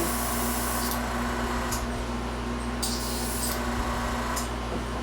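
Paint sprays onto a scale model in a steady hiss over a constant mechanical hum, close and even, with a few brief brighter bursts.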